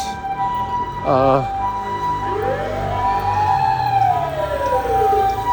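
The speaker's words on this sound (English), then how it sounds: "There's ambulance coming from some direction." Ambulance siren passing outside, a wailing tone that rises and falls at a distance beneath a person speaking indoors, with a brief warbling burst before the long sweeping wail.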